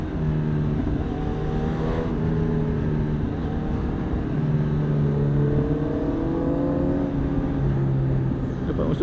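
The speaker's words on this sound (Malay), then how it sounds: "So untuk bunyi exhaust dia, untuk slip on kira padu lah." Honda CB1000 Hornet SP motorcycle fitted with a slip-on exhaust and catalytic converter, accelerating through the gears on a highway: a loud, steady engine note with rising pitch sweeps and gear changes, close and continuous.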